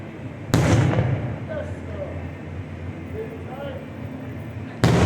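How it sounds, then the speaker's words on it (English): Fourth of July fireworks burst over Pompano Beach, Florida, with two sharp, loud booms about four seconds apart and a steady crowd and ambient hum between them. "seeing all the different fireworks from the different places"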